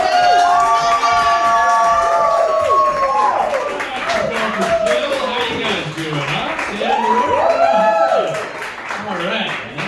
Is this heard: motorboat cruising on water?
no